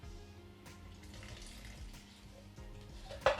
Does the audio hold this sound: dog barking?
no